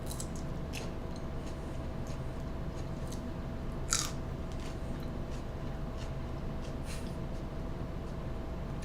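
Raw green beans dipped in guacamole are bitten and chewed, with crisp crunches standing out over a steady hiss of background noise. The crunches come close and fairly quiet, with no talking.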